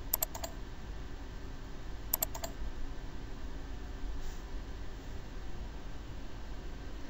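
Computer keyboard typing in two short quick bursts of clicks near the start, faint against a steady hiss, then quiet background.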